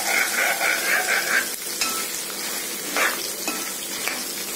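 Dried red chillies fry in a pan for Guntur gongura chutney, making a steady sizzle with a few stirring clinks and scrapes.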